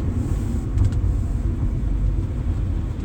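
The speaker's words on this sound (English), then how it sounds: "Downshift, just got to rev match a little bit and drop her in the next one" A car engine rumbles low and steady, with a slight rev blip as it downshifts using rev matching, heard from inside, no talk.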